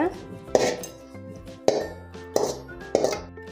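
Metal pot and utensil clinking four times at uneven intervals as a drumstick stir-fry is scooped into a serving vessel, each sharp near clang ringing out before the next.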